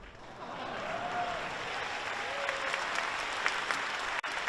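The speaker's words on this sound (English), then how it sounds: "And a round of applause for our pre-game show superstars, ladies and gentlemen." Applause from a large keynote audience in a hall, a sustained wash of clapping heard at a distance, with a short amplified voice rising briefly above it.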